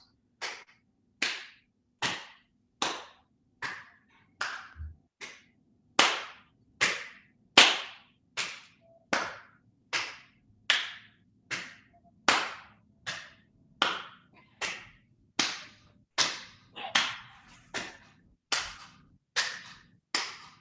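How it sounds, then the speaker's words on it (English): Hands clap sharply during a qigong session, about two dozen crisp, evenly spaced claps at a slow steady rhythm, close and distinct, with quiet between each. "And let's clap in front,"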